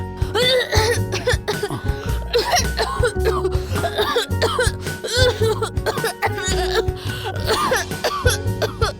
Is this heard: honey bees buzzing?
no